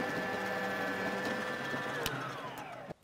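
An Allett Liberty 35 self-propelled cordless lawn mower running at slow speed, a steady mechanical whir with a constant tonal hum throughout, the pitch sliding down near the end before it cuts off abruptly.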